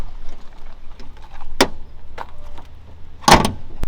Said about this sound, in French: je vais te laisser me fermer le capot